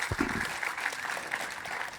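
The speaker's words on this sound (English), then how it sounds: "Guys, give them a round of applause if you would." An audience at a Bitcoin conference applauds a panel on accounting, a steady, moderately loud wash of many hands clapping together for a couple of seconds.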